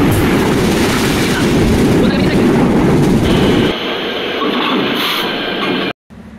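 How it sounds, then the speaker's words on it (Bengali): The Ekota Express intercity train in Bangladesh, pulled by locomotive 6601, runs with a loud, close rumble and rattling from inside the carriage. The roar drops partway through, then cuts out briefly near the end. "এখন আমরা ভ্রমণ করব একতা এক্সপ্রেসে, আন্তনগর একতা এক্সপ্রেস ৬৬০১ লোকোমোটিভ নিয়ে কমলাপুর ঢুকবো।"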